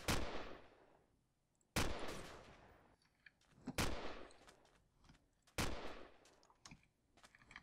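AK rifle fire in The Crafting Dead: four loud, sharp bursts of rapid shots about two seconds apart, each fading into a short echoing tail, with no voices.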